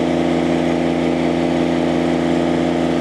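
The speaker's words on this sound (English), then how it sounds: "Go ahead and run her up. So no load. Wide open throttle." A Kubota BX compact tractor fitted with a HydrosPlus turbo kit runs at wide open throttle with no load. Its steady, loud engine drone holds an even pitch from start to finish.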